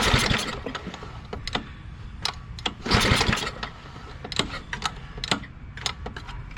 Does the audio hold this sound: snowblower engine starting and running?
yes